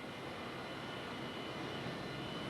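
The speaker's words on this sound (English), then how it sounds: "the B-52 Stratofortress, as its name implies, was originally designed and built to fly at a great height as a long-range intercontinental strategic bomber" A Boeing B-52 Stratofortress jet bomber flies with a steady, dense roar that holds at a constant level throughout, with no voices.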